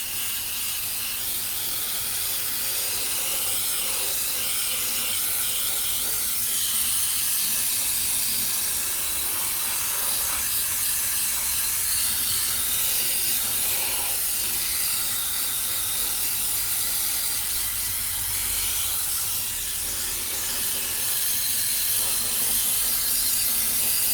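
An airbrush sprays paint onto an RC car body shell in a continuous, even hiss that runs without a break, close and fairly loud, with faint mechanical ticks underneath.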